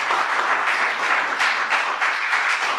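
A church congregation applauds loudly and steadily during a service, with dense clapping that continues throughout.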